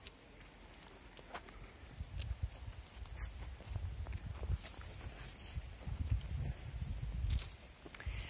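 Horse hooves clip-clop at a walk on the ground, a steady uneven plodding close by over a constant outdoor background hiss, with no talking.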